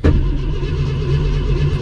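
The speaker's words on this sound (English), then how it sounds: "We're going to start up the 65 Thunderbird with the Petronics." A 1965 Ford Thunderbird fitted with Pertronix ignition starts up, a close, loud engine catching with a quick initial burst, then settling into a steady, deep, humming idle rumble for the rest of the short moment.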